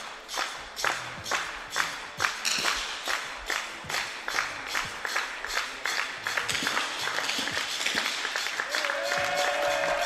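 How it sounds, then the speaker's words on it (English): Slovakian spectators at a men's prone rifle shooting competition clap in a steady, rhythmic beat. It builds into denser applause and cheering, at moderate volume from a crowd a little way off, with a brief voice near the end. "the way the Slovakians cheer is like they know that it will be enough"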